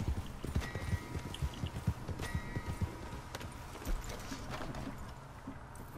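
Horse hooves clip-clop steadily in a video game, a moderately loud, uneven run of hoof strikes over a gritty background with no talking.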